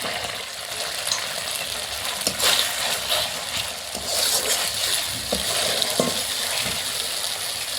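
Green peas tipped into spice masala frying in oil for an egg and potato curry, giving a steady close sizzle with a few sharp stirring clicks and scrapes, no voices.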